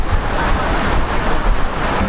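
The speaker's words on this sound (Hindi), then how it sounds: "अरे भाई हवा कैसी चल रही है भाई?" Strong wind roars past the microphone on a mountain road trip from Karachi toward Khunjerab, a loud continuous rushing buffet with no pauses, filling the whole stretch.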